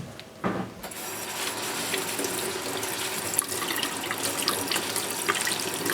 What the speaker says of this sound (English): So what I'm going to do here is I'm just going to rinse them quickly